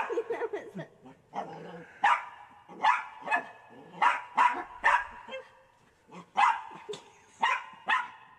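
A small dog barks in quick, excited bursts at its own shadow, a string of sharp yaps and whimpering yips spread across several seconds, close and clear with no talking.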